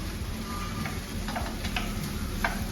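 Bacon being stirred in a hot pan, its fat rendering into a steady sizzle with a few soft scraping and ticking touches of the utensil, close and continuous with no talk.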